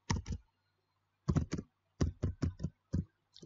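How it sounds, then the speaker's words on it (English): Noisy computer keyboard being typed on in close, crisp bursts of clicks with short pauses between groups of keystrokes, no talking. "My keyboard is very noisy"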